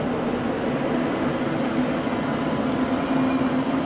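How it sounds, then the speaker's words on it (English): A helicopter flying overhead above a retaining wall dirt-work site, a steady droning rumble with a sustained low hum, distant and constant without rising or fading. "I didn't even know there was a helicopter overhead until I played this video back"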